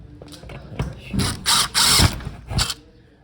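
A hand drill with a 1/8 bit bores new holes for a garage door lock, giving several short, close whirring and grinding bursts in quick succession.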